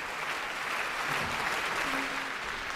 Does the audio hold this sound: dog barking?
no